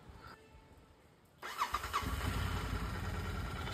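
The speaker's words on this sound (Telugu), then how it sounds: "అదెలా చెక్ చేయాలంటే బండి అయితే ఆన్ చేయాలి." A Royal Enfield motorcycle engine is cranked and catches after a quiet moment, settling into a steady, close thumping idle.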